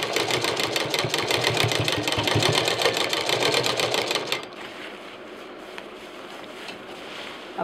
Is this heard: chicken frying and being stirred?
no